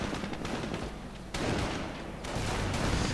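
Tank cannon and rifle fire in a WWII strategy video game: a dense crackling fusillade of shots with heavier thuds, sustained and fairly loud throughout.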